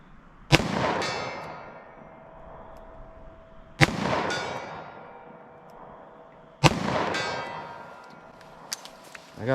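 Three sharp, loud .38 Special revolver shots crack at spaced intervals during a gel test, each followed by a ringing decay, with faint background noise between them.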